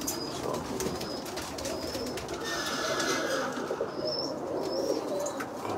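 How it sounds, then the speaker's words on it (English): Spinner pigeons coo steadily throughout a crowded loft holding a couple hundred birds, a dense layered murmur of overlapping calls at close range with occasional higher chirps and no talking. "I still got a lot of birds"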